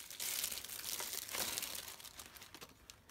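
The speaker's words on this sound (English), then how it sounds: "So I'm going to take it out of the plastic." Plastic packaging being pulled off a Canon Selphy or Kodak mini photo printer, a close, steady crinkling and rustling that fills the whole moment and swells briefly in the middle.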